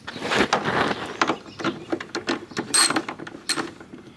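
Ratcheting clicks from bolts being snugged down on a Chevy S10 blower motor, a series of short, sharp mechanical bursts close by, irregular in rhythm, with no talk.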